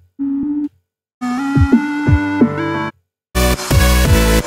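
Harsh, buzzy distorted synth stabs play in short bursts, separated by silences, the last burst louder and more saturated.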